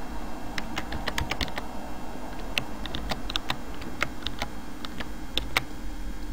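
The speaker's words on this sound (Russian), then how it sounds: "И вот здесь дальше мы пишем дополнительно латинскими буквами" Close fingers type quickly on a computer keyboard, sending out bursts of light clicking key presses with short pauses in between, steady and alone.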